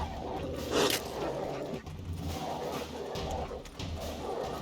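Dogs bark and yip in the video game Witcher 3, a scuffle of sharp barks and whimpers with whooshing movement, at moderate distance and fairly faint, no speech.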